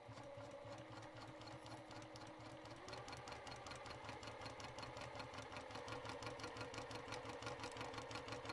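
A sewing machine stitches fabric for a thorny plant craft piece, a quiet, fast rhythmic whir of needle strokes that picks up speed and grows slightly louder partway through.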